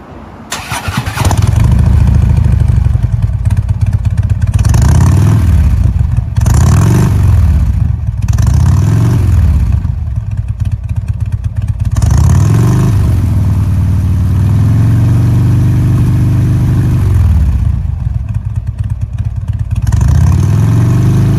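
A Harley-Davidson Twin Cam touring motorcycle with a faulty variable exhaust valve starts up and idles loudly close by, its engine repeatedly revved in several throttle blips and one longer sustained rev, with no talk.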